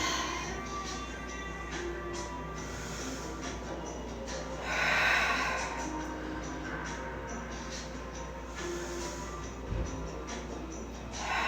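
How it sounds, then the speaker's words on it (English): Slow, deep breathing during a home yoga flow held in plank: a soft, steady airy hiss swells into one fuller breath midway, faint and close against a quiet room hum. "Take a breath in plank."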